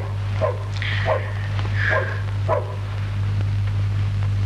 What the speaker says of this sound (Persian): این سگ چش اینقدر وق وق میکنه؟